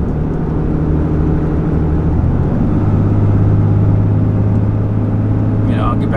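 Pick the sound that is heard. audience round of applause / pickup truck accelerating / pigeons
pickup truck accelerating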